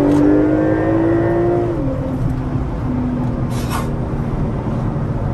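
A 2021 Porsche 911 Turbo S engine revs hard and loud, its rising note dropping at an apparent gear change partway through, then steady engine drone continues with no talk.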